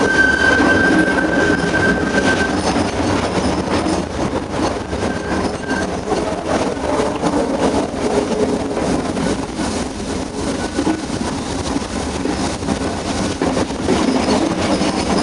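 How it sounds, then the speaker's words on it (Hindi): Ooty rack and pinion mountain railway train running, a continuous loud rumble of wheels and carriages with rhythmic clatter and a faint squeal, no voices. "रैक एंड पिनियन सिस्टम का पूरा वीडियोग्राफी कर रहा हूँ"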